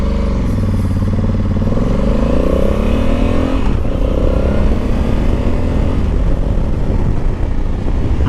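A 2021 Honda Africa Twin motorcycle engine revving up, a loud, close, steady drone with rising pitch sweeps as it accelerates, then settling into a rough sustained roar.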